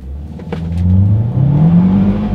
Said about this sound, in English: let's now do a quick little acceleration test with the Soul having full control